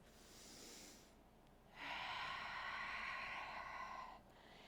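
Slow, deep breaths during a yoga flow: a soft exhale, a pause, then a long, airy breath that swells and fades, close and quiet with no talking.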